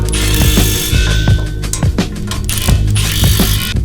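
A hand ratchet tightens the knuckle bolt into the spindle on a Lexus IS300 during a suspension install. It gives loud, close, rapid clicking in a steady back-and-forth rhythm, with no talking.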